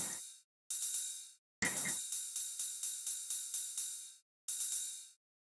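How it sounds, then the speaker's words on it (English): A hi-hat pattern from a song follows the rhythm of the lead synths: crisp bursts, several short and then a run of evenly spaced hits, each fading fast, with silent gaps between the groups. "there is an hi-hat added in the rhythm of the leads"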